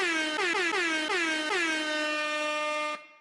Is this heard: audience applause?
no